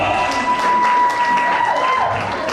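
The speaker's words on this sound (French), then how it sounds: "Là, il faut applaudir, applaudissez encore." Audience applauding at a gala evening in a Kinshasa hotel, a steady dense wash of clapping filling the room, with a sustained tone and some voices mixed in.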